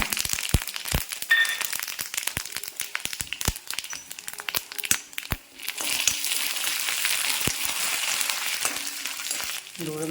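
Mustard seeds and urad dal sizzle in hot coconut oil, with sharp sputtering pops and crackles scattered over a soft frying hiss at close range, a few faint words spoken once or twice.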